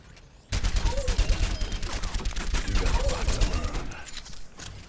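Heavy pulse rifle firing in Overwatch, a dense, continuous stream of rapid shots that starts abruptly and runs loud and close for several seconds before easing off at the end.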